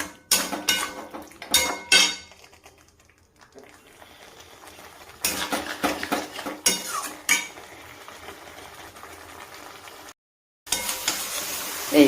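Fried potatoes for alur dom are stirred and sautéed in a pan at home. A spatula scrapes and clanks against the metal in irregular clusters, separated by quieter stretches of low sizzling.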